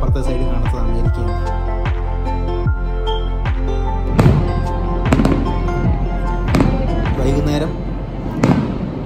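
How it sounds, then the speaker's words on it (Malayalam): Fireworks display at Niagara Falls: a rapid series of sharp bangs and crackling bursts, loud and fairly close, some in quick clusters, with a steady low rumble running underneath throughout. "വലിയ രീതിയിലുള്ള വെടിക്കെട്ട്, നമ്മുടെ നാട്ടിനെ അപേക്ഷിച്ച് ഇതൊരു ചെറിയ വെടിക്കെട്ടെന്ന് മാത്രമേ."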